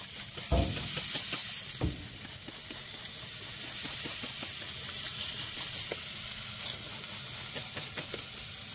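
A spray bottle spritzes liquid onto meat inside a smoker outdoors in winter: a few short, hissing spray bursts over a steady background hiss, with a couple of sharp knocks near the start.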